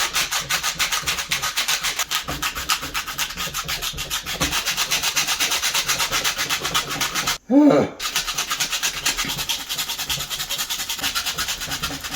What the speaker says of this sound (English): Okay, no more sanding.